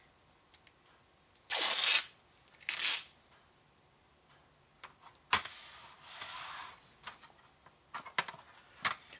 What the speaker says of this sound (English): So I'm going to tape the whole darn thing down here.